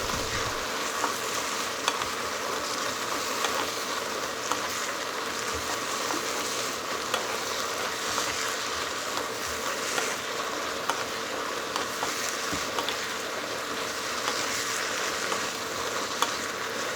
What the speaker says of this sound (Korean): 버섯과 양파의 양념이 충분히 배고 충분히 숨이 죽을 때까지 달달달달 볶아주세요.